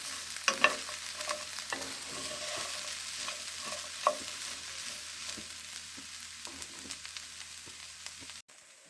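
Pumpkin pieces fry in a pan with a steady, quiet sizzle, broken by occasional soft clicks and stirring scrapes, with no voices.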